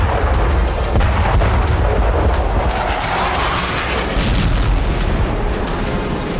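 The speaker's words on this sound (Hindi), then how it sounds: "पुतिन की सेना हर फ्रंट पर भीषण विस्फोट कर रही है।" Heavy artillery fire and explosions on a Russia–Ukraine war front, a dense loud rumble of booms and blasts layered continuously with no quiet gaps.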